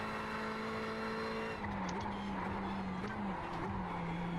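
A Ferrari 488 GT3 race car in iRacing at Okayama, its engine droning steadily while brief tyre squeals from small brake lockups wobble over the top.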